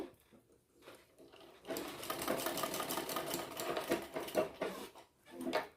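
Sewing machine stitching the front panel of a bra-cut blouse, a soft brief whir at the start, then a steady rapid mechanical chatter running for several seconds and ending in a short final burst.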